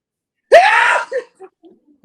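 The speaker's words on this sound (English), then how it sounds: "just sneezed like an old-timey Western movie" A man lets out one loud, exaggerated sneeze in the style of an old Western movie. It is a single harsh burst lasting about half a second, followed by a few faint, short vocal noises.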